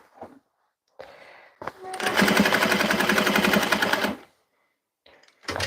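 A sewing machine stitches through denim patchwork fabric in one loud, rapid burst of about two seconds. Brief bits of handling noise and quiet sounds come before and after it.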